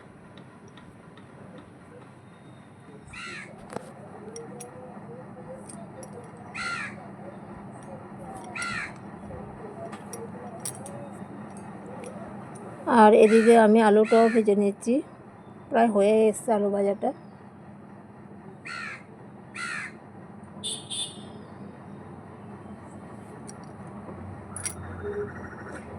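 A crow caws repeatedly with short harsh calls spread across the stretch, while someone talks in a kitchen, her voice louder than the bird for a few seconds in the middle.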